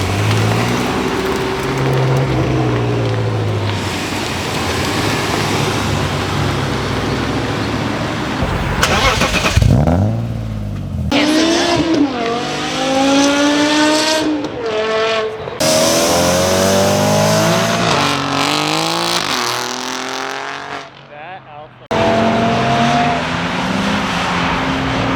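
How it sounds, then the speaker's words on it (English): A manual BMW M6 Gran Coupe pulls away and accelerates, its engine note climbing through revs in repeated surges with gear-change dips. People talk over the close, loud engine. "So the Gran Coupe's about to head out."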